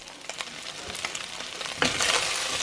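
Chicken feet fry in a small amount of oil, giving a close, crackling sizzle with sharp pops that grows louder toward the end, heard alone without voices.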